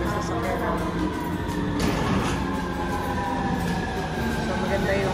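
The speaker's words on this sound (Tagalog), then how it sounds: "ayan na yung tren na sasakyan namin." A Line Violet metro train pulling into an underground station, a continuous loud rumble and screech with a high tonal whine, while people talk nearby.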